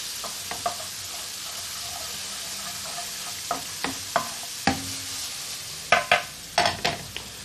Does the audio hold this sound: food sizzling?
yes